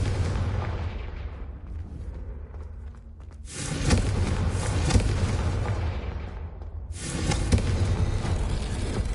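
A Confringo blasting spell goes off in Hogwarts Legacy, loosing a heavy, roaring explosion that swells suddenly, holds as a sustained rumbling blast, and surges again a few seconds later.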